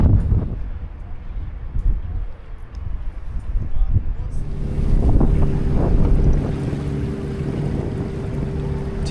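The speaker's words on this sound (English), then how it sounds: "Ooh, it's breezy up here" Breezy wind at a hilltop monument overlooking Tinos, Greece, with steady low rumbling gusts buffeting the microphone; a faint tonal hum joins partway through.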